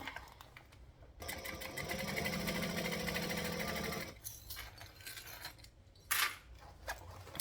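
A freshly oiled sewing machine runs quietly in a smooth, steady burst of about three seconds, framed by soft fabric handling and a sharp snip near the end.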